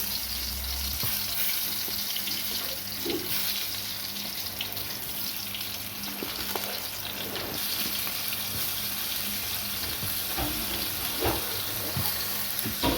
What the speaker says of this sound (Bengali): এবার টমেটোগুলো তেল গরম হয়ে গিয়েছে, ছেড়ে দিচ্ছি।